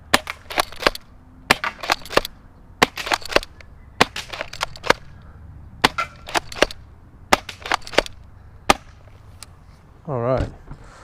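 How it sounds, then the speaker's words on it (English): Repeated sharp cracks from an airsoft spring shotgun firing three-round shells, about a dozen shots spaced irregularly and loud up close, with a brief mechanical rasp near the end. "little Springer shotguns, but they are always fun to shoot"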